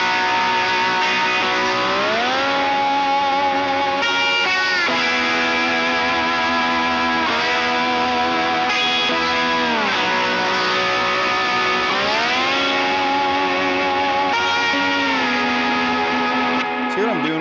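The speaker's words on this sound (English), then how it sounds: "let me switch over and add some distortion and stuff. So here's kind of what a big chorus would sound like." Distorted lead electric guitar playing a big worship-song chorus with sustained bending notes and wide vibrato, loud and continuous with effects and reverb, no talking.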